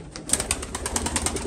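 Iraqi pigeons, feather-footed birds kept in Europe, give soft repeated cooing pulses in a quick steady rhythm, close by.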